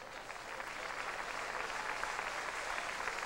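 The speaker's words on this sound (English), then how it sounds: "That brings a round of applause." Crowd applause at a 2002 high school baseball state championship game, a steady distant wash of clapping from the stands that holds evenly through the whole stretch.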